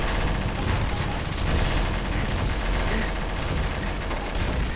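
Gunfire in the video game Garry's Mod, a continuous loud barrage of overlapping shots with little letup, close and dense throughout.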